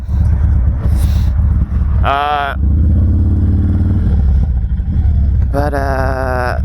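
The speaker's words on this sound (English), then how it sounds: "Gosh, this bike sounds good, feels good." A Harley-Davidson Dyna Low Rider S rumbling at low revs close up, a deep steady engine throb throughout, briefly joined by a voice speaking over it.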